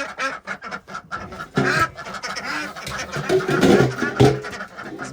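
Backyard ducks quack excitedly while being fed near a creek, a busy close cluster of irregular calls with rustling in between.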